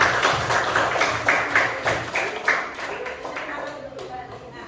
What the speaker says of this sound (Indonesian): Beri tepuk tangan untuk Rusia.